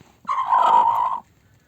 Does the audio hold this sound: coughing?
no